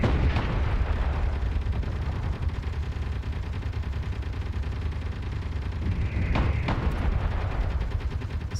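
An explosion erupts against a hydrogen thruster in Space Engineers, starting as a heavy blast and settling into a sustained roaring rumble, with a couple of sharper bursts and pops near the end.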